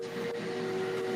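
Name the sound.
steam locomotive whistle number 4, from a video game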